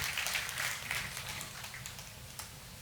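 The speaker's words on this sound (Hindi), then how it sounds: "तालियों के साथ प्रभु को धन्यवाद देते हुए" A church congregation claps in thanks to the Lord at a Hindi prayer service, a faint, scattered patter of applause in a quiet room that slowly thins out.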